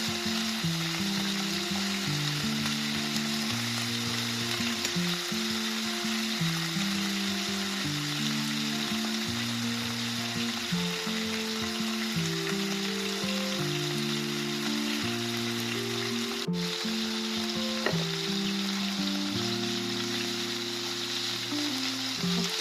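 Pork steaks fry in a hot pan with a steady, even sizzle that runs the whole way through, while a melodic music track plays underneath.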